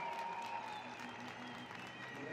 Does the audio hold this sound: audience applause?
yes